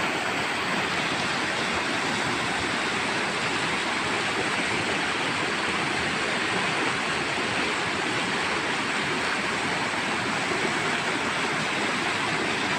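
River water rushes through a jungle, swollen by rain and carrying plants down from the hills, a steady, full roar heard up close with no voices.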